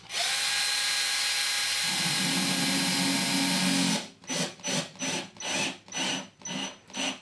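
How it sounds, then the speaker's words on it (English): A cordless drill whirs steadily for several seconds as it drives a screw into a plasterboard fixing, then fires in a series of short, rhythmic bursts. "And I can use a cordless drill on the bottom one."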